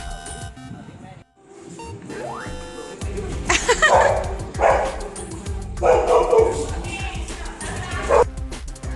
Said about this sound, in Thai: หมาเห่าคาเฟ่หมาเลยต้องเห่าเลย